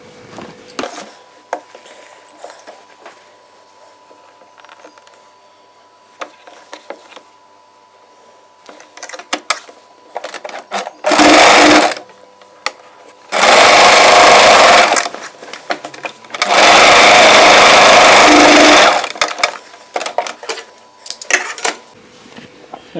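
Sewing machine stitching the shoulder seam of a frill churidar: three bursts of loud, close motor whirring, a short one then two longer runs of a couple of seconds each, separated by clicks and handling noises of fabric and machine.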